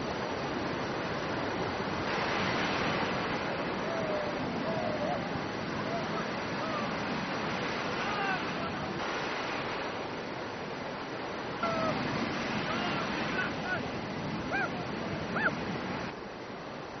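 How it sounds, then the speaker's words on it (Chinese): Ocean waves break and surge steadily in shallow coastal water where fishermen wade on stilts, a continuous rushing wash with periodic swells, moderately loud and without speech. "海浪渐渐地大了起来"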